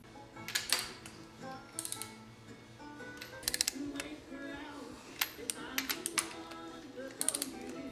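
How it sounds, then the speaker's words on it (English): Torque wrench tightening head studs on a Bonneville flathead engine to 60 pounds: bursts of sharp ratcheting clicks, close and fairly loud, repeat every second or two over a low workshop hum. "After torquing each of those head studs to 60 pounds each, Keith uses this cool old Whistler gauge"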